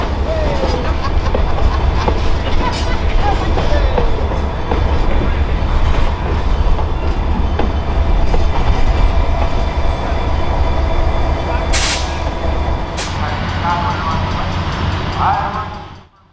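Diesel locomotive 2407 hauls a passenger train past at close range, a loud continuous rumble with wheel clatter and rail squeals, and a sharp high screech near the end before the sound fades out.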